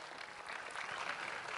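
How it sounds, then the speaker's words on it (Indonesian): An evening public gathering in Surabaya applauds an honored guest, faint distant clapping that swells slightly and continues steadily. "Tepuk tangan untuk beliau."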